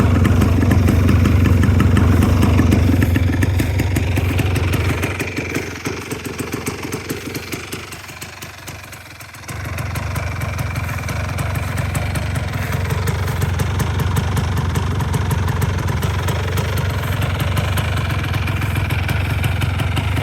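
A restored 1986 Honda TRX250R two-stroke ATV idles steadily close by, a continuous throbbing engine burble that dips briefly in level midway before settling back to an even idle.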